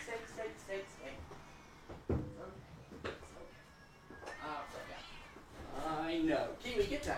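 Domestic cat meowing indoors in a home, a few brief mews at moderate distance, heard under and between people talking with occasional cupboard-like knocks.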